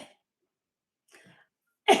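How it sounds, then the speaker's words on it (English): A woman coughs, with a faint sound near the start, a soft muffled one in the middle, and a loud, sharp, close cough at the end, separated by silence. "I said she's not real, and then I literally started to cough"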